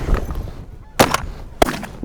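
Shotgun blasts ring out during a dry-field duck hunt, two sharp reports about half a second apart, loud and close, with geese honking around them.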